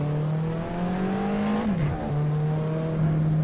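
Porsche 911 Turbo engine in the racing game Assetto Corsa, droning steadily at high revs, then dipping briefly as it shifts from second into third gear and climbing again, loud and close with no talk.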